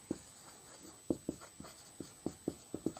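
Chalk or marker writing on a board during a physics lesson, a series of short, quiet tapping and scratching strokes in an irregular rhythm, heard alone.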